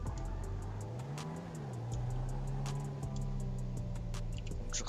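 Engine of a Mercedes C63 AMG coupe in GTA 5 hums and rises in a moderate rev, a steady mid-pitched drone with clicky game noises ticking over it, fairly quiet and without talk.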